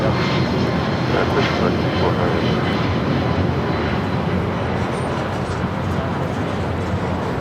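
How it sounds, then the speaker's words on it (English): An American Airlines Boeing 777-200ER jet taking off at Los Angeles International Airport bound for Dallas Fort Worth, a loud, steady engine roar throughout, with a voice talking over it. "This is American Airlines 349 taking off to Dallas Fort Worth on a 777-200ER."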